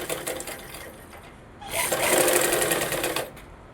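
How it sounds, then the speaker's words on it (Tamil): A sewing machine runs a brief, close burst while stitching a blouse lining seam, rising from a quieter mechanical whir. "அதே 1/2 இன்ச் அளவுக்கு தையல் போட்டுடலாம்."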